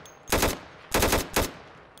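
Automatic gun in the Minecraft Crafting Dead mod firing three short loud bursts of rapid shots, separated by brief pauses.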